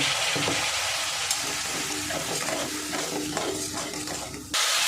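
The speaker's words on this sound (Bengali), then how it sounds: "জল দিয়ে মশলাটা আবার ভালো করে কষিয়ে নেব।" Spice paste sizzling and frying in a pan with added water while being stirred for a rohu fish curry, steady loud crackle with scraping stir strokes throughout, no talking.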